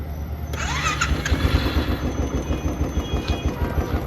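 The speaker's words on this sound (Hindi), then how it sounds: "एकदम प्रॉपर इसका सेल्फ काम कर रहा है। और एक मतलब छोटे से सेल्फ में स्टार्ट हो गई।" A Royal Enfield Thunderbird 350 motorcycle, with its self-starter just repaired, cranks briefly on the electric starter, catches quickly and settles into a loud, close, thumping idle with a regular low pulse.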